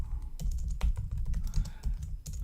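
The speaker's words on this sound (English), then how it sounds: "typing in customer name, maybe, dash meeting follow-up" Quick, close keystrokes clatter on a computer keyboard as text is typed into a new email message, an uneven run of crisp taps with no talking.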